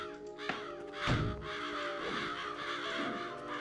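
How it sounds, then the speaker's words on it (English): Crows caw in the video game Psychonauts, several harsh calls overlapping over a steady bed of game music, with no voices. "Stop. Get out of here, crows."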